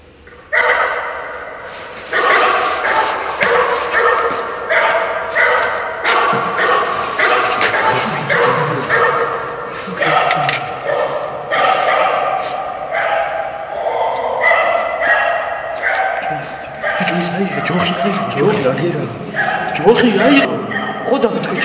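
Several dogs bark and yip repeatedly at night, in a tunnel, loud and close, with whimpering mixed in. People talk over and between the barks throughout.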